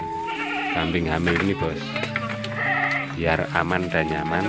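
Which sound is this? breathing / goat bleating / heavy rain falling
goat bleating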